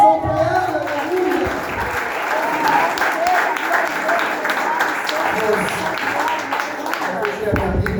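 A church congregation claps together during a sermon at an evangelical service, a full, steady wash of applause that swells and then tails off toward the end.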